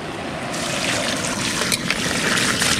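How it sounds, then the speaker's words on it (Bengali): Water poured from a vessel into a pot of chicken curry with potatoes, a steady close splashing trickle that swells after a half-second and runs on loudly with no talk. "এখন জলটা দিয়ে দেবো"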